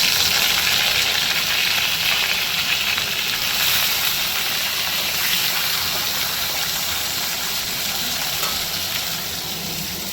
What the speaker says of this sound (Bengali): মাছটা ভাজা হয়ে গেলে এই কড়াতেই কিন্তু আমি